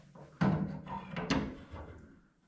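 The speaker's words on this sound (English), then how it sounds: "Shut the door slow." A door closes slowly inside an off-grid Alaskan cabin in winter, making a few solid, close thunks and scraping knocks spread over a couple of seconds.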